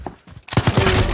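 Gunfire in the video game Call of Duty: Modern Warfare Warzone, a few sharp thuds followed by a loud burst of rapid shots with a rattling, dense texture, close and prominent.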